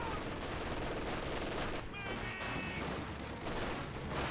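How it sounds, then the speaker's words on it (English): Heavy continuous automatic fire from a Vickers machine gun in Company of Heroes 2, a dense unbroken roar of shots blended with wider battle noise, dipping briefly near the middle before resuming at full loudness. "Vickers firing away, hitting the conscripts"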